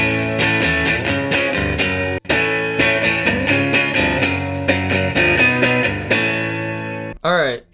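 Heavily distorted electric guitar playing sustained chords through stacked Basement, Mesa and Super Grunge cabinet impulse responses, loud and dense, with a brief break near the middle before it cuts off at the end.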